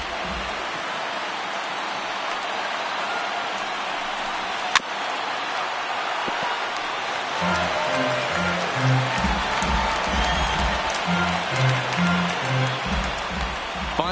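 A baseball video game crowd roars steadily as fans rise for the final strike, a broad wash of cheering that swells louder in the second half, with no commentary over it.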